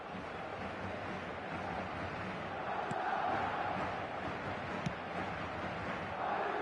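A stadium crowd in an eFootball match between Real Madrid and Manchester City in the Champions League, heard as a dense, steady roar of cheering that stays fairly quiet throughout, with no one talking.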